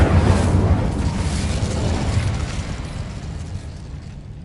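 An Incendio fire spell blast in a video game, a loud low rumbling whoosh that starts strong and slowly fades over a few seconds, with no talk.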